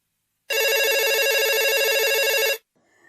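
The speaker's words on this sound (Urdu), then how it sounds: "فون کی گھنٹی بجی" A telephone rings with a fast, trilling electronic bell for about two seconds, then cuts off into near silence.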